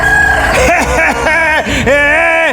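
A voice imitates a rooster's crow, with loud drawn-out rising and falling calls repeated several times in quick succession.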